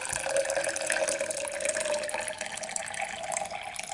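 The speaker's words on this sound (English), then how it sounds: "And then I'm gonna continue pouring this hot water." Hot water poured from a kettle into a Wacaco Pipamoka portable coffee maker, a continuous close trickling and splashing stream that stays steady for several seconds.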